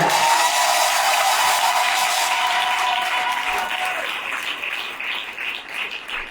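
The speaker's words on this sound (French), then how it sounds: "Est-ce que quelqu'un peut acclamer pour le Seigneur?" A church congregation applauds and cheers for the Lord, a dense, loud wash of clapping that fills the space from the start and slowly thins toward the end.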